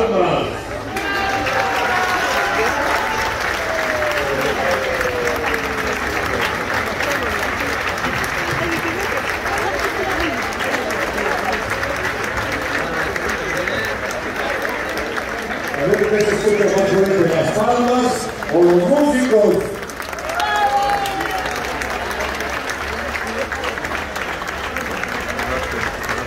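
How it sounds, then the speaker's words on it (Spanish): Dense, steady applause from a church congregation at a parish celebration honoring a priest's anniversary at a Loreto sanctuary, sustained for the whole stretch with a brief surge near the end and voices mixed in. "se requiere mayor intensidad con las palmas"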